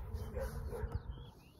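Dogs somewhere behind the camera, excited by another dog across the street, bark and whimper in short bursts at a backyard home-run game. The yelps come under an outdoor hum and a raised voice, ending in a sharp close sound.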